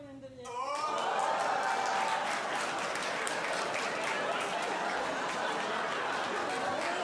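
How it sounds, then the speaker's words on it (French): Audience applause on a French comedy show swells suddenly after a short moment of talk and holds as dense, steady clapping with scattered chatter and laughter mixed in. "Il a applaudi comme Gilbert Montagnier."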